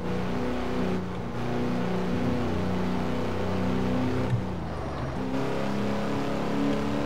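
A 1957 car engine in Test Drive Unlimited 2 hums steadily with gear-shift dips and revs, smooth and continuous like a game vehicle cruising, no voices.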